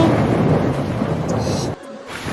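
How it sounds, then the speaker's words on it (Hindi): Heavy cartoon rain pours in a jungle scene as a steady dense hiss with a rumbling, thunder-like body that cuts off abruptly near the end and then faintly resumes. "बारिश बहुत तेज हो रही है"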